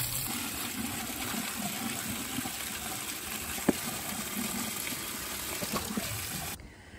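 Steady broadband rush of water spraying from a garden hose at weak pressure, continuous and even, with a couple of faint knocks, cutting off abruptly near the end.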